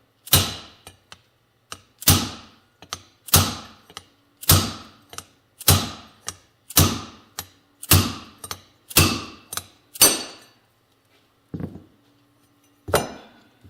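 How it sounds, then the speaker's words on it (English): A steel drift is struck repeatedly with a hammer to knock a bearing out of a Yamaha YL1 rear hub, about ten sharp, ringing metallic blows at a steady pace, close and loud, followed by a pause and one final hit. "I'm going to just take this drift, it's a little bigger than the other one, see if I can't just smack that bearing out"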